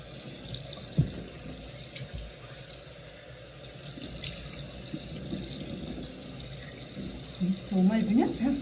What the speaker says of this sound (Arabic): غادي نغسل البشره ديالي بالماء دافي، نغسلو عادي